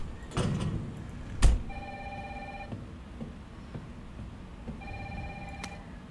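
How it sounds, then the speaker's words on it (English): A telephone rings in the Resident Evil 3 remake intro: repeated electronic ring bursts at moderate volume with a soft thud and ambient background, no talking. "Phone's ringing."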